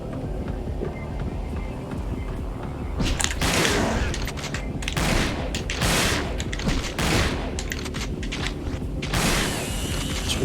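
Shotgun blasts from the Resident Evil Dead Aim video game boom out in a series of loud, broad bursts after a quieter start, over a constant rumbling game background.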